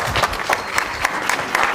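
An audience at a cultural and educational gathering applauds warmly during a lamp-lighting welcome for guests, a dense, even patter of many hands clapping, loud and steady for a brief moment.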